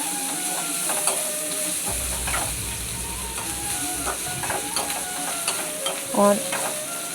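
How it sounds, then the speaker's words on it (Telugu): Ginger garlic paste stirred in a hot pan for tomato egg curry: a steady sizzle with repeated scraping, clicking spoon strokes, alone with no voice. "తర్వాత 1 టీ స్పూన్ అల్లం వెల్లుల్లి పేస్ట్ వేసుకోండి. బాగా కలుపుకోవాలి."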